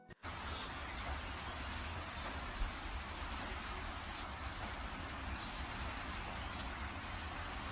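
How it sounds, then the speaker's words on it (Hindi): Heavy rain pours down steadily, a dense, even hiss that holds at the same loudness throughout, with no voices. "और बारिश बहुत तेज होती है"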